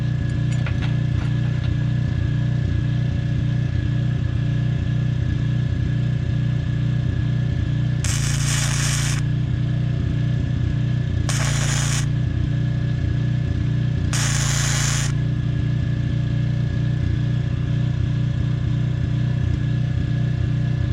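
A flux core wire arc welder runs against a loud, constant engine-like drone, with three short bursts of harsh crackling buzz during tack welds.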